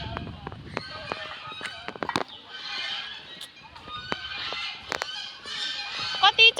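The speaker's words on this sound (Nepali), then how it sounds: "कति चरा कराएको छ नि साथीहरु." Many birds call at once around Butwal Fulbari, a dense chorus of honking, squawking cries, some close and loud, others farther off, with faint voices in the background.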